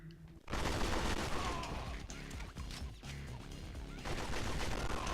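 Gunfire in the video game Agent Under Fire: after a brief quiet start, a dense, loud barrage of rapid shots rattles on for several seconds, with short dips between bursts.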